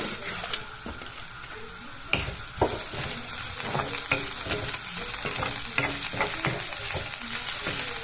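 Marinated kuchia eel frying in a pan, a steady bright sizzle with repeated scraping and stirring knocks throughout, close and alone.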